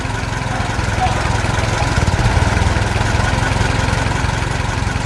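A red tractor with a digger attachment runs its engine in a steady, loud idle-like drone with a low rumbling pulse, continuous throughout with no talk.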